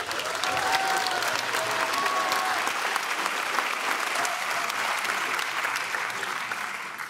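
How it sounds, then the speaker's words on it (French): A theatre audience at a stage competition final applauds loudly and steadily, dense clapping sustained for several seconds before slowly easing off, with a few faint cheers. "On les applaudit bien fort."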